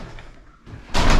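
A door closes as a runner heads out into cold rain in Lancaster, giving one sharp, loud slam after a quiet moment.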